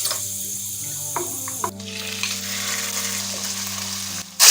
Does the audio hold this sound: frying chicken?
yes